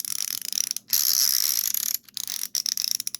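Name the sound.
ratcheting screwdriver clicking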